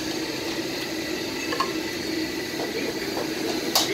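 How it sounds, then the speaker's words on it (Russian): Water poured from a ladle into a wok by a cook in a Chinese kitchen to rinse it, a steady splashing, trickling wash lasting throughout at moderate loudness with no talk. "Видите, просто он наливает своим половничком хитрым этот воду."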